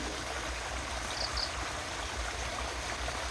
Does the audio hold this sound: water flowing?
yes